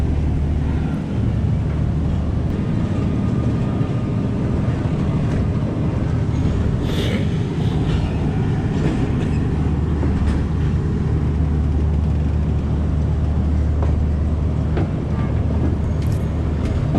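The Pakistan Express pulls out of Chak Jhumra Junction with a steady, loud rumble of wheels and carriages rolling. The noise builds into a continuous roar heard from on board.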